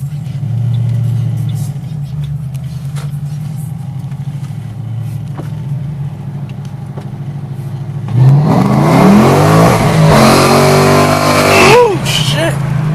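Off-road vehicle with a newly fitted exhaust idles with a deep, steady rumble, then revs hard into a loud, bellowing roar that rises and falls before settling.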